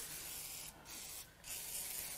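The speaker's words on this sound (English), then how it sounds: "Now I'm going to spray down the bores" Cleaner sprayed onto the cylinder bores of a Cadillac Northstar L37 4.6L V8 engine, two short hissing bursts close by, with a steady background hiss in between.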